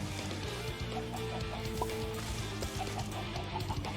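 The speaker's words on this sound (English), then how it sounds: "It's chickens." Chickens cluck in the video game Minecraft: a series of short, soft clucks repeats every half second or so over a low background, close and moderately quiet.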